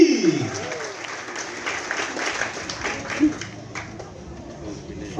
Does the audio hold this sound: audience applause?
yes